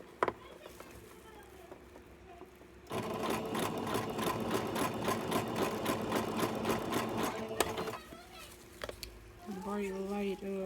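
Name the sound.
sewing machine running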